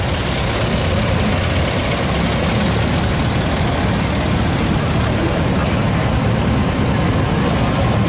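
Massey tractor idling during a New Year's parade, a steady loud low-pitched engine rumble that holds constant and close for the whole stretch, with faint crowd noise beneath.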